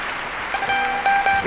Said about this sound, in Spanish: Un minuto de aplausos.